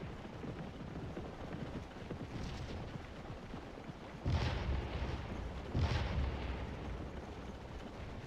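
Artillery guns fire in a Scourge of War battle: two heavy booms land about a second and a half apart over a steady rumble of distant combat ambience.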